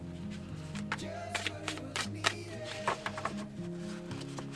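Quick riffling and soft slapping of a tarot deck being shuffled, several bursts in a row, with music playing underneath.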